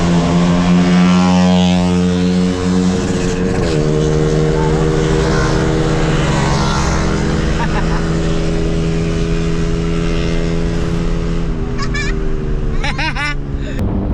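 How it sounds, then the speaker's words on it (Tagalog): Loud motorcycle engines drone and rev steadily on Marilaque Highway, with bikes passing close by in a continuous roar; a voice speaks briefly over the noise. "Malalaman mong nasa Marilaki Highway ka na pag ganito ang naririnig mong mga ingay ng mga motor"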